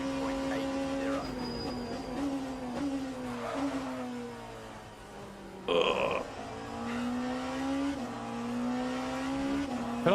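A hypercar engine roars around Daytona in a racing video game, the pitch climbing in repeated upshift steps with a brief louder burst midway, while a player talks faintly underneath.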